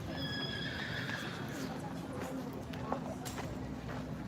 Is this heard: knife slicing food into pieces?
no